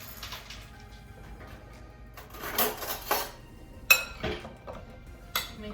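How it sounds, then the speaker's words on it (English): Carrots tossed with cayenne, cinnamon and other spices in a bowl for Moroccan roasted carrots, giving soft scraping and clinking of a utensil against the bowl in a few irregular bursts, close and fairly quiet with no talking. "I'm going to move this out of the way and we're going to stir this together"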